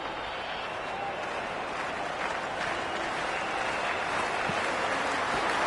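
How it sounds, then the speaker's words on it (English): A cheering cricket crowd fills the stands in the video game Cricket 26 during an India vs Pakistan T20 match, its steady roar and applause swelling slightly toward the end with no break. "It's the most enthusiastic crowd you could ever see right now. There's a buzz, a real buzz coming from the stands."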